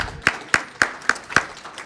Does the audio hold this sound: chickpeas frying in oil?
no